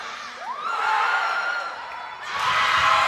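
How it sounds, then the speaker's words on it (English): A high school girls basketball crowd on senior night cheers and whoops loudly throughout, with a shrill rising yell early on and a fresh swell of shouting near the end. "the Vista Del Lago crowd is loving that"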